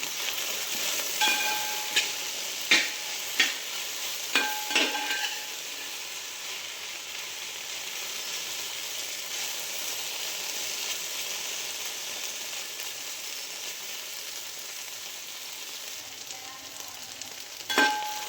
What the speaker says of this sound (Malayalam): കുറച്ച് ഉപ്പ് ഉപ്പിട്ടിട്ട് നന്നായിട്ട് ഇളക്കി